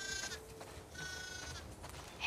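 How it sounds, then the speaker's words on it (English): Sheep bleating on a farm in the video game The Last of Us Part II, several wavering calls overlapping from a small flock, moderately close over a quiet outdoor backdrop. "We definitely have way too many sheep."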